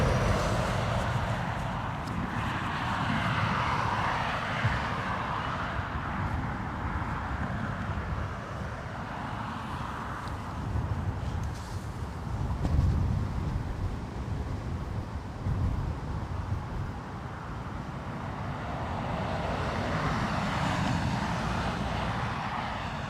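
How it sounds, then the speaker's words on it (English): A British Airways Embraer E190 jet out of London City, a steady broadband engine roar that swells around the start and again near the end, mixed with gusty wind on the microphone, with no talk. "So, British Airways Embraer E190 from London City next."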